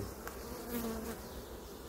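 Agitated honey bees buzz around an open hive being inspected without smoke, a continuous, even, faint swarm hum with no pauses.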